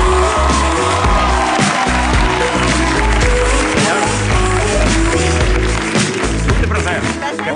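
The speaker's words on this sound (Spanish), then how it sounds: "Vamos a recibir con un aplauso a Dani Rovira" A television studio audience applauds and cheers as a guest walks onto the set, a loud, continuous wash of clapping and whoops over heavy music, with a voice talking above it.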